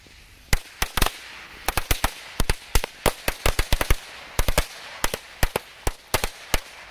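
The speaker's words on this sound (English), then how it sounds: "here goes the black cat firecrackers" A rapid string of small Black Cat firecrackers popping, sharp loud cracks in irregular bursts over several seconds, no talking.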